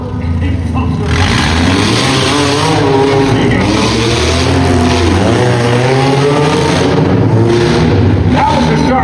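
Mini monster trucks race at an Edmonton motorsports show, their engines revving and droning continuously with an announcer talking over them.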